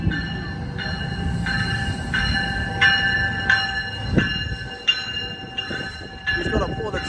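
An Amtrak Capital Corridor train pulls into Oakland's Jack London Square station, its horn sounding in repeated bursts over a steady rumble of wheels and engine close by, with a clank near the end.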